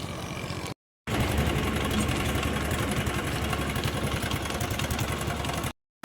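A motorcycle engine runs steadily at idle, a loud continuous mid-pitched chug close by, broken by two short cuts to silence.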